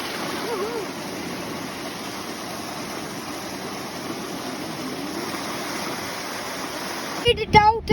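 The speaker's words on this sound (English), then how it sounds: "But there's a waterfall from behind." A waterfall at Baratirau Falls in a Uttarakhand forest keeps up a steady, moderate rushing roar throughout, with a few sharper louder bursts near the end.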